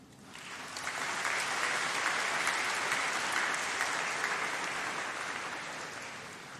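Graduates at a university degree ceremony applaud and cheer as one dense, sustained burst that swells within the first second and holds steady, loud and close throughout, with no talk on top.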